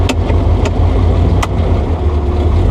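A 1000hp 1959 Rambler car runs with a loud, steady engine rumble, punctuated by a few sharp pops or bangs.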